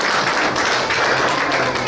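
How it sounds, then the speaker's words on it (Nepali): Congregation clapping to welcome two newcomers at a church service, a dense, continuous patter of hands filling the whole short moment. "उहाँलाई हामी ताली बजाएर स्वागत गर्नेछौँ।"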